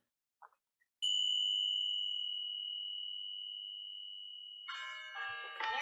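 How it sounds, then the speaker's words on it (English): A single meditation bell struck once, ringing out as a long, clear sustained tone that slowly fades, followed near the end by a cluster of other bells chiming together, close and fairly loud. "When you hear the bell, close your eyes"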